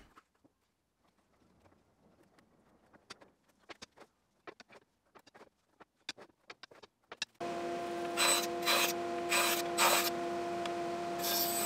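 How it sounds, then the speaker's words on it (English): A bandsaw cuts the rough shape of wooden stool slats, with faint intermittent scraping and handling knocks first, then the saw's steady loud whine and hum running from about midway to the end with pulsing bursts as the blade bites timber. "At this stage, I'm just cutting out the rough shape of the slats at the bandsaw."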